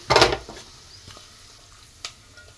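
Leftover cooked rice is stirred into a frying tempering in a pan, with one loud sizzling scrape at the start, then a quieter sizzle and a second short scrape later.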